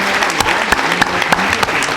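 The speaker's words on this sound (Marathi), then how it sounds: "बापरे जोरात टाळ्या" Loud, close applause bursts out for a jewellery shop lucky draw winner, with sharp rhythmic claps standing out over a dense crowd of clapping hands.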